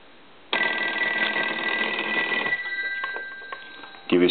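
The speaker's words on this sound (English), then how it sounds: "let's go ahead and ring the telephone" A Western Electric 5302 telephone's mechanical bell rings loud and close in one sustained metallic burst of about two seconds, then trails off into fainter rattling and clicks of the handset.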